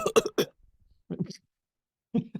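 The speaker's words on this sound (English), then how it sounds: "I like that little cluster of coughs there." A close, short cluster of coughs and throaty bursts, separated by brief silences, with a few more coughs at the end.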